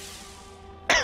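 A single short, loud cough bursts out near the end, close to the mic, after a stretch of quiet game background hum.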